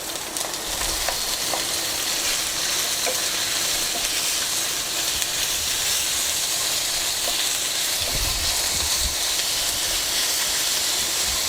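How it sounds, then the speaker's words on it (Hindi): Chicken pieces hit a hot pan of cooked ginger and garlic and sizzle loudly and steadily, a dense close hiss with some low stirring bumps that goes on throughout. "अब इसी के साथ ये मैं चिकन के पीस डाल देती हूँ।"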